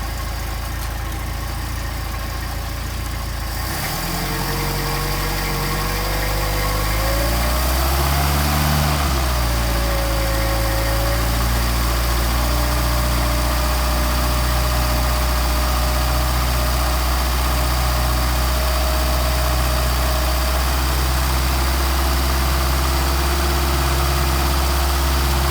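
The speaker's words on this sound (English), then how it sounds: "So we're going to warm up the carburetors." A Mercedes 190SL engine with Solex carburetors idles while warming up, a steady close rumble with a brief rise and dip in revs early on, then settling into an even idle throughout.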